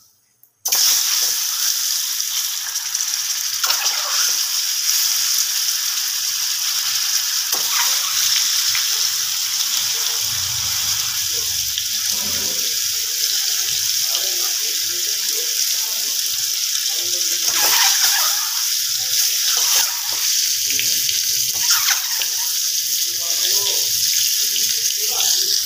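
Eggs fry in hot oil with a little turmeric while a Bengali egg curry is made, a continuous loud hiss and sizzle that stays steady throughout, with faint voices at times.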